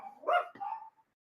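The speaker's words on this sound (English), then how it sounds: "I apologize for the puppy." A puppy gives two quick, close barks, a short yip followed by a second bark, then goes quiet.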